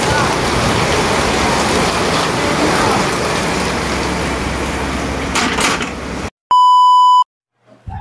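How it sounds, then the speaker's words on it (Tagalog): Heavy rain pours steadily during flooding, a dense continuous hiss that holds for about six seconds before cutting off, followed by a loud electronic beep tone and silence. "Hanggang mamaya pa yung ulan."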